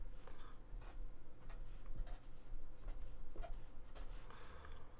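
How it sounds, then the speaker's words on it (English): A pen writes notes by hand on paper for an acids and bases chemistry problem, in quick scratchy strokes with short pauses, close and fairly quiet. "I'm going to write as much as I know about each thing"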